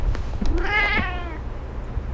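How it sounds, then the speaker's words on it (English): A house cat gives a single clear, drawn-out meow close to the microphone, rising then falling over about half a second, followed by quiet room noise. "Pounces, which is gonna be the prettiest kitty in the Oval Office"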